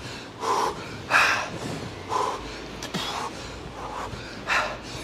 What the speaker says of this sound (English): And you're breathing.